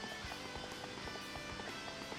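Galloping horse hooves in the video game Dynasty Warriors 4, a steady rapid clip-clop rhythm repeating throughout over a dense bed of battle and game music.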